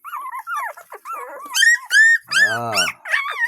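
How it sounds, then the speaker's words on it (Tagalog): A litter of four newborn puppies growls, whimpers and yips close up, with high squeaky cries and a louder whine in the middle. "Yan po yung ating mga tuta"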